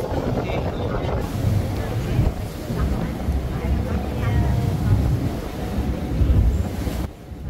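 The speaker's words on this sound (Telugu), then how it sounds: "విండ్ చాలా ఎక్కువ వస్తుంది" Strong wind buffets the microphone on the deck of a whale watching boat, a loud, continuous roar with gusts, plus a hum of the boat and faint voices under it.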